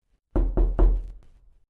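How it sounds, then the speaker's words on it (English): Three firm, close knocks strike a door in quick succession, each sharp and loud, followed by a brief fading tail and silence. "As he dined, there came a knock on the door."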